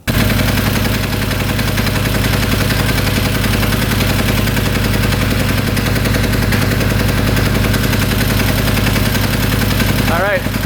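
A cheap UTV engine, fully rebuilt after sitting four years, idles with a loud, steady, fast rattling chug that runs unchanged throughout, with voices talking over it.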